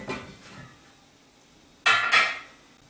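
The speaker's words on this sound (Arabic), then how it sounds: "توا باش نبدا نحضر الطبيخة، باش ناخذ النحاسة" A copper cooking pot is lifted and set down in a kitchen: faint clatter at first, then two loud, close metallic clanks near the end.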